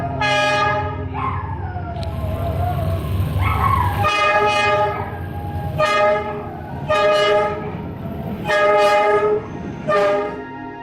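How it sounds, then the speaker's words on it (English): Train rolling through narrow Train Street in Hanoi's Old Quarter, a low rumble of wheels under a series of loud, repeated horn blasts that sound in several long and short bursts close by. "2 trains, twice a day, pass through the high street, within millimetres of residents' homes"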